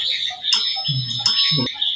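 A small ringing death bell and a tinkling music box in a forgotten park at night, high thin chimes sustaining and repeating, with a couple of brief low tones, close and fairly loud.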